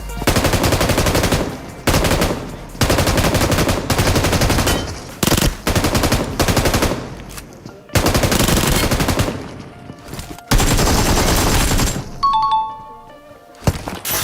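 PUBG Mobile gunfire fills most of the stretch: loud, dense automatic bursts that stop and start, with short gaps and a few chiming game cues near the end.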